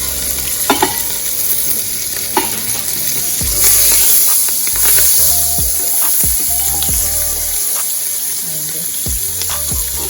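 Scallion and thyme sizzle and fry in butter in a pan for a Jamaican curry dish, a steady close crackle with occasional stirring clinks and scrapes throughout.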